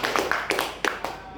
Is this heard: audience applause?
yes